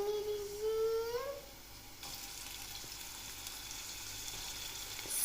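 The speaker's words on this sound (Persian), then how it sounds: "اول پیازه رو خرد کردیم میریزیم." Chopped onion is poured into a pot and starts frying with a steady, soft sizzle. The sizzle follows a brief rising whistle-like tone and continues evenly at low volume.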